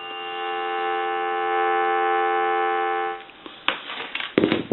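Steady buzzing dial tone from an old single-slot payphone handset, held for about three seconds before cutting off into a few sharp clicks and knocks.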